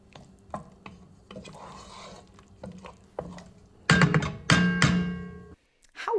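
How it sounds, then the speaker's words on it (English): Minced garlic and wine go into a pan for coq au vin, with soft stirring and utensil scrapes followed by louder bursts of sizzling and clattering as the liquid hits the hot pan. "Now I'm adding the minced garlic and that reserved wine, because as soon as the garlic hits the pan, I don't want it to burn."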